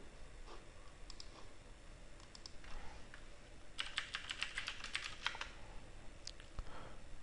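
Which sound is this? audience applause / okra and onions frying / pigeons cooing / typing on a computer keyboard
typing on a computer keyboard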